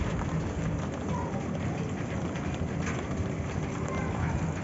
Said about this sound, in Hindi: बारिश हो रही है, धूप निकला हुआ है फुल